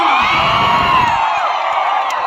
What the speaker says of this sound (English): A big round of applause for Shruti Haasan